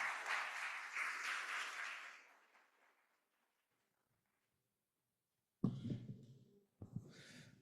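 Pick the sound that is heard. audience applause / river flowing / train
audience applause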